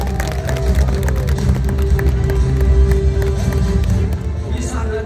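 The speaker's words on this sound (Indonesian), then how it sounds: "Mana semangat tepuk tangannya dulu" Audience clapping and cheering at a bird show with an eagle in Taman Safari, a dense burst of many hands under a lively crowd, with an announcer's voice over it.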